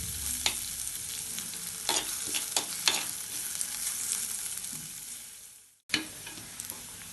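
Onions sautéing in a pan, a continuous sizzle broken by stirring clinks and scrapes, briefly cutting out before resuming.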